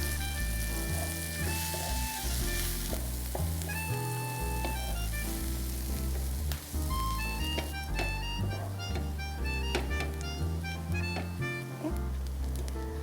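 Onions browning in a pan with a cinnamon stick, cloves and bay leaf give off a steady, dense sizzle that runs throughout, with background music playing over it.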